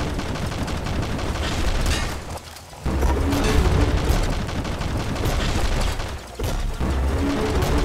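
Grenade launcher in the video game Nuclear Throne, rapid chaotic bursts of firing and explosions layered with gunfire, loud and dense with short lulls between volleys.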